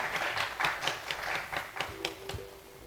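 At a youth forum in Songpa, Seoul, a crowd gives soft, steady applause as a quiet, evenly paced patter of claps heard from a distance, with a faint tone near the end.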